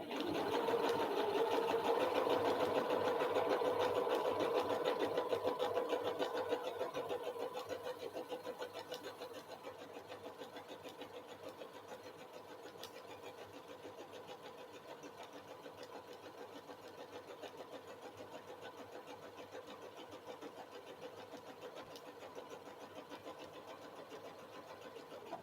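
A home sewing machine stitches a raglan top, loud and rapid at first, then dropping after several seconds to a quieter, steady run of needle clatter that carries on to the end.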